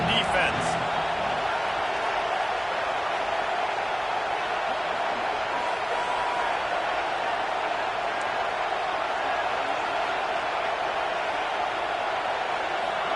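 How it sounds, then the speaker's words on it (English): An Alabama football stadium crowd roars in a continuous dense wall of cheering and noise, heard under a commentator's voice. "Listen to this crowd just shaking the girders of this place"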